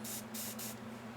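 Aerosol coating sprayed onto a painted Huntress garage kit figure, heard as three quick, close hissing bursts over steady room hum.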